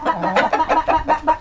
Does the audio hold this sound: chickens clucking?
yes